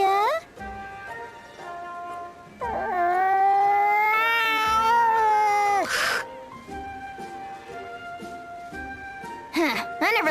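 A cat in the video game Bravely Second meows in drawn-out, wavering cries between stretches of in-game speech, loud and close, with a few shorter mews near the end.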